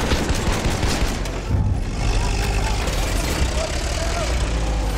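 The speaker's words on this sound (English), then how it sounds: "Machine gun!" Dense battlefield gunfire from a Battlefield 1 multiplayer match in Operation Kaiserschlacht, a steady wall of machine gun bursts and explosions mixed with engine rumble, loud and continuous with voices shouting over it.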